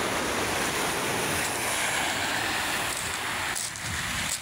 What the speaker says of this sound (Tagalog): Malakas pa rin yung alon yun.